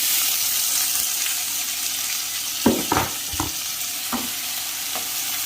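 Tomatoes sauté in a hot pan for Chettinad chicken gravy with onion and ginger-garlic paste, a steady close sizzle broken by a few scraping stirs.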